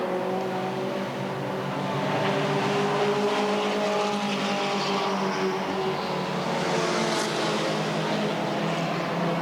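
Mini stock race cars in a 1989 main event at Redwood Acres Raceway roar past on the track, a loud, continuous blend of several engines droning and shifting pitch as the pack passes.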